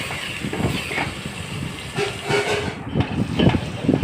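Chicken with onion, ginger and garlic fries in a pan of oil with a close, steady hiss and sizzle. Uneven low thumps and scrapes from stirring pulse through it, and there is no talking.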